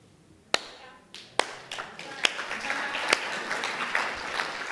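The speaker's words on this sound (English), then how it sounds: "This could be why I was just clapping" Single hand claps ring out one at a time at an uneven pace, each a sharp, fairly loud smack that trails off into a reverberant room during a Sunday church celebration service, with a faint murmur behind them.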